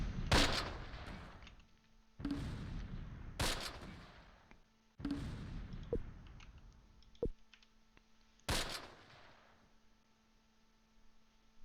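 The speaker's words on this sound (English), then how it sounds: "Who's still shooting?" Gunfire in the WWII tactical video game Close Combat, set in August 1944: a series of loud, sharp shots and bursts fired in separate clusters, each followed by a decaying rumble over a low steady hum.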